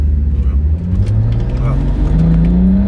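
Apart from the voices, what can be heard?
BMW 535d E60 car engine revving, rear wheels slipping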